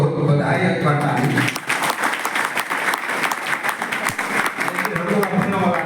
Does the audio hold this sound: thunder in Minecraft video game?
no